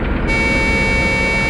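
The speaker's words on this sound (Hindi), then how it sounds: "हॉर्न भी बजा रहा है।" A truck in a forest sounds its horn in one loud, sustained blast that starts a moment in and holds over a low engine rumble.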